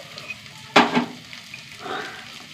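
Okra sautés in a pan, a low background sizzle broken by a sharp scraping stir and a second, softer stirring rustle, all close and with no speech.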